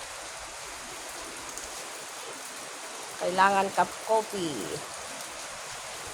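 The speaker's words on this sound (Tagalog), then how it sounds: "Ang ulan dito sa amin. Malapit ang bagyo." Heavy rain pours on a dark morning as a typhoon approaches, a steady close hiss throughout, while a person briefly speaks partway through.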